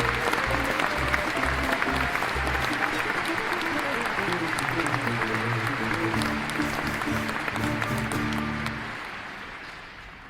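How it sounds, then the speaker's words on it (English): Audience applause for the backstage crew of a stage production of The Two Noble Kinsmen, a steady dense wash of many hands clapping that fades gradually toward the end, with music tones running underneath. "please give a big round of applause for the people behind the scenes who have brought this play to your screens today"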